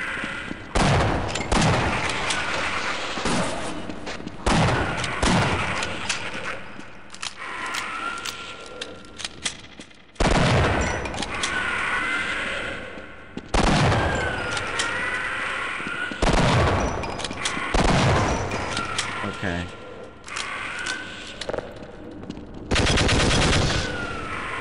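Gunfire in the video game Half-Life: loud, repeated bursts of rapid shots, some long and sustained and others short, separated by brief pauses with no talking.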